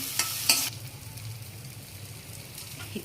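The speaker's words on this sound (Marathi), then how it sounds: "हा मसाला परतल्यानंतरच मी एक कांद्याचं वाटप यात मिक्स करणार आहे हा बऱ्यापैकी परतून घेते मी" Masala for Kolhapuri misal sautés in oil in a pan with a soft, continuous sizzle, marked by a couple of sharp spatter bursts at the start and occasional light stirring scrapes.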